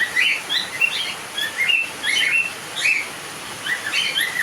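Pet budgerigars, cockatiels and lovebirds chirp in bright, overlapping bursts of tweets at moderate volume, a busy flock chatter with no talk.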